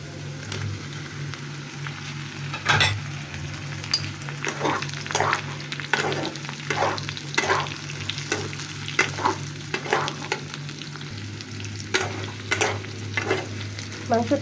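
Pre-fried meat stir-fries with onions and green chilli for chilli chicken fried rice, a continuous close sizzle punctuated by repeated loud spatula scrapes and clanks against the pan at an irregular rhythm, with a low hum beneath.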